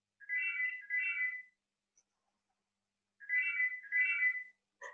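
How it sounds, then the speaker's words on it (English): A phone ringtone plays in two clear, evenly spaced bursts with a silent gap between them, close and moderately loud, with no talking. "She's ringing to let me know that it's 8:30."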